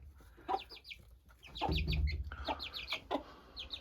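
Hens clucking inside a winter chicken coop, a few birds giving short repeated clucks and squawks close by, with brief bursts and pauses; fairly quiet overall with no talking.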